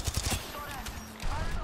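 Rapid bursts of automatic gunfire in the Apex Legends battle royale game, dense and continuous throughout, mixed with game effects and a brief low hum, with players talking over it.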